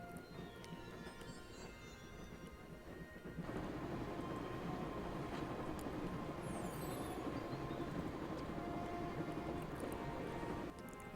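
A train runs steadily with a dense, rumbling clatter close by, in the video game Broken Sword: The Shadow of the Templars. It grows a little louder partway through and continues without any voices.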